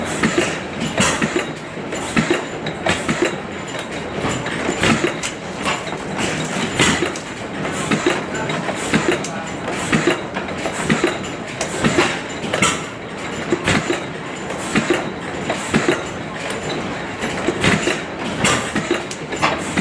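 An antique Callahan cam stopper gasoline engine runs steadily, a loud, close, rhythmic chuffing beat with regular pulses repeating over a constant mechanical rumble, no voices.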